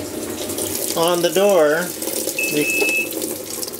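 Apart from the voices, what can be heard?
water filling Panda PAN50SW portable automatic washer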